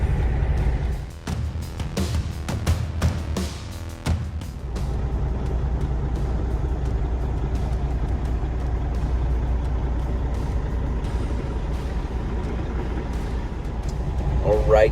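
A semi truck hauling a load of plastic rolls down the road on the way to McAllen, Texas, giving a steady loud engine drone with a few louder clatters at the start.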